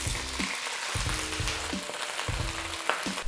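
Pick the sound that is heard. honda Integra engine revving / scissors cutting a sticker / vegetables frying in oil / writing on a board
vegetables frying in oil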